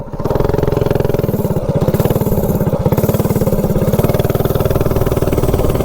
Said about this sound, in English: it actually sounds really good at idle